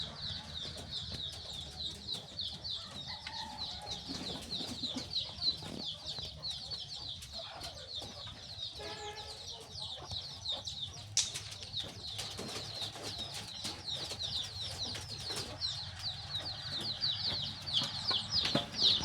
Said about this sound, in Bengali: অনেক সুন্দর কবুতর দেখেন, টিনে বসে কিন্তু খাইতেছে অনেক কবুতর।